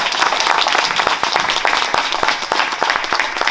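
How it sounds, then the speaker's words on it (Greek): An audience at a book presentation in Nea Smyrni claps, a busy stretch of many hands with sharp individual claps standing out, steady and fairly loud throughout. "Το χειροκρότημά σας, παρακαλώ."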